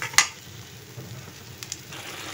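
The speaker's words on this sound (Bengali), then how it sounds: "নারকেল আর মশলাটা ভালো করে কষিয়ে নেব।" Coconut and spices fried in oil in a pan while cooking taro greens give a soft, close, steady sizzle, opening with a sharp metallic scrape and a few faint stirring taps later.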